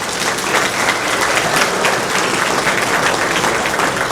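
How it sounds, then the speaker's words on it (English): An audience at a Chamber of Commerce celebration claps loudly and steadily throughout, a dense, even wash of applause from a large crowd. "Let's give them some round of applause."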